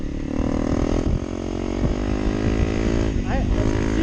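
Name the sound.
2023 Honda CRF300L Rally motorcycle accelerating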